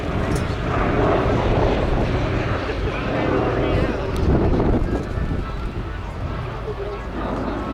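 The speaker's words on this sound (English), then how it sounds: "So it sounds like the B-17 Sally B has got permission to display" A Boeing B-17 Flying Fortress, Sally B, flies a display at an airshow, its piston-engine drone steady and fairly loud across the whole stretch, mixed with wind buffeting, while people talk throughout.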